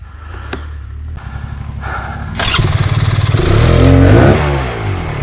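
An enduro motorcycle's engine revs hard and its rear wheel spins in a mud-filled trench. Rough bursts of throttle build into a loud, sustained, wavering roar up close.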